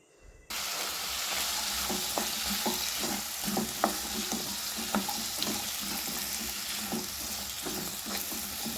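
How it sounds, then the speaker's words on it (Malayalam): Drained soaked potatoes with salt are stirred in a frying pan, with a loud steady sizzle broken by repeated sharp clicks and scrapes of the spoon against the pan. "നമ്മൾ വെള്ളത്തിലിട്ട് വെച്ചിരിക്കുന്ന ഉരുളക്കിഴങ്ങ് വെള്ളം കളഞ്ഞ് ചേർത്ത് കൊടുക്കാം എന്നിട്ട് ഒന്ന് ഇളക്കി കൊടുക്കാം"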